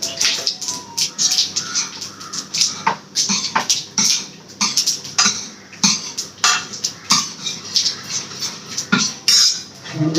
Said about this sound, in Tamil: நம்ம பருப்பை மசிக்கலாம்.